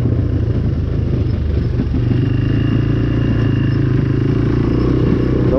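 A free quad bike engine runs close by, a loud continuous rumble with clattering overtones that holds steady throughout.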